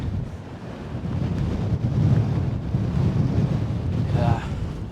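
Strong wind gusting across a stony Welsh mountain summit, buffeting the microphone with a steady low roar that swells and eases, loud and close throughout with no talking.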